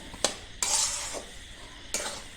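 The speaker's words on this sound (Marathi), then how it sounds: "आता हे थोडा वेळ हलवून घेऊया आपण" Semolina roasting in a pan for coconut laddoos is stirred with a spoon, making a few distinct close scraping strokes with a soft dry sizzle between them; no talking.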